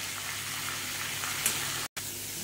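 Carrot, potato and papaya sautéing in a pan for chicken stew give a soft, continuous sizzle with faint crackles, fairly quiet and close, briefly cut by a short dropout near the end.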